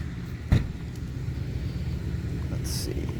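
A pickup truck's engine rumbles close by on a morning street, a low, steady motor drone with a brief knock near the start and a faint higher squeak toward the end.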